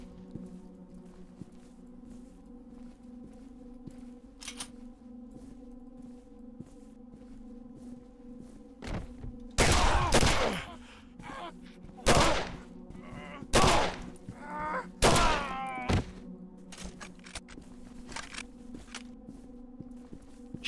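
Shotgun blasts from the video game Condemned: Criminal Origins, a cluster of loud, sharp booms spaced a second or two apart over a low ambient hum, with fainter clicks and shuffles in between.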